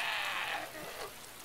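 Rain in the video game DayZ, a steady hiss of falling rain that is loud at first and then eases and thins out, with no talk over it.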